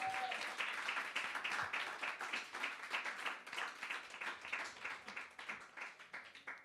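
A church congregation applauds steadily, dense clapping filling the space for several seconds at a moderate, sustained level while they acclaim the Lord during a sermon on evangelism.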